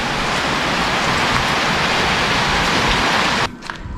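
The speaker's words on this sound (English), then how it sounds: "This rain's not stopping anytime soon," Heavy tropical rain in Thailand pouring in a dense, loud, steady roar of drops on surfaces, which cuts off abruptly near the end.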